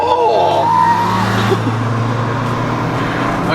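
A Volkswagen Golf pulls away hard from a standing race start, its loud engine note rising then settling into a steady drone that fades somewhat as it leaves, with a brief exclamation near the start.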